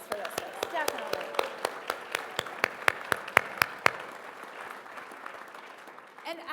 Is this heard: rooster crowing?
no